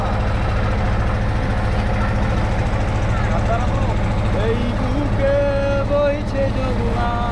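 A boat engine drones steadily and loudly throughout during a boat ride in Rangamati, with people talking over the constant low hum.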